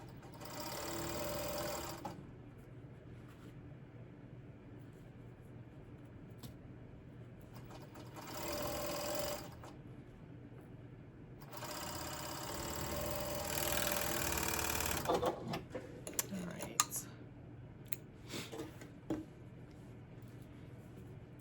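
Serger stitching elastic with its knife disengaged, running in several sustained whirring bursts separated by pauses, the last stretch ending in small clicks and handling sounds.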